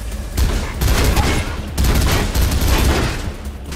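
Heavy machine gun fire in Mirror's Edge, a dense continuous roar of rapid shots in sustained loud bursts with brief dips between them, close and overwhelming.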